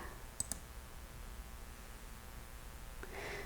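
A computer mouse gives two quick, faint clicks close together, then one more soft click a few seconds later, against a quiet room.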